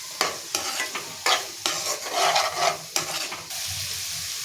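Ginger garlic paste sizzling in a hot pan while being stirred, with repeated rhythmic scrapes of a spoon over a continuous close frying hiss and no voices.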